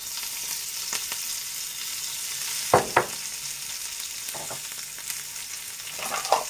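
Dry red chillies, asafoetida and curry leaves tempered in hot oil give a steady close sizzle, with a few sharp crackling pops rising out of it as the spices hit the fat.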